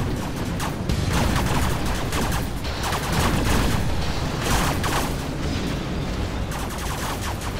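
Dense, continuous gunfire and explosions from a Command & Conquer Generals Zero Hour battle, Gatling cannons and launchers firing, rapid bursts layered into a steady loud roar with no talking.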